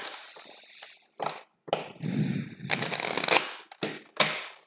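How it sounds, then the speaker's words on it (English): Tarot cards being shuffled by hand, a run of short riffling and sliding bursts separated by brief pauses, close and fairly crisp with no talking over them. "I'm shuffling them wrong."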